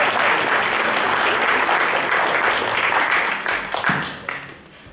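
Concert audience applauding to welcome performers, a dense, loud wash of many clapping hands that holds steady, then thins and fades out over the final second.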